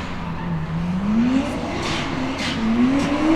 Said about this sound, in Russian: Классный звук блоуфа.